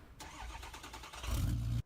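Truck engine in the BeamNG.drive game cranks briefly and then catches, the starter whir giving way to a louder, deeper running rumble that cuts off abruptly at the end.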